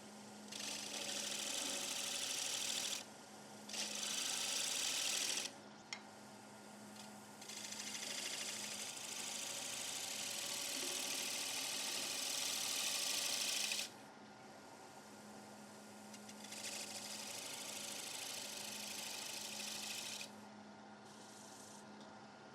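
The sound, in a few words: wood lathe turning with a 16mm gouge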